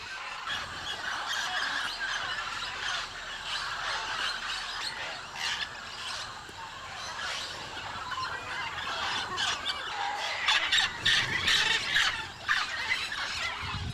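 Macaws and other parrots squawking at a clay lick near the Tambopata River, a dense continuous chorus of harsh squeals and calls, with sharper bursts toward the end.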